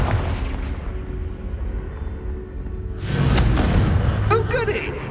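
In the video game Hogwarts Legacy, the Confringo spell bursts into a loud, roaring explosion that rumbles on for a couple of seconds after a quieter stretch of game sound and voices.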